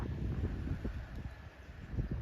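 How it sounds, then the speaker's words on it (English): Strong gusts of wind around 40 miles an hour buffet an outdoor walk, a rough, rumbling low roar with uneven surges, close and continuous. "about 40-mile-an-hour gust today, so it really is strong winds"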